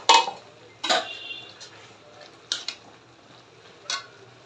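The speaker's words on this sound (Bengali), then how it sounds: "শাকটা নাড়াচাড়া দিয়ে দিব" Spinach cooked with small mola fish stirred in a pan, heard as a few separate sharp clinks and scrapes of a spoon against metal over a quiet background.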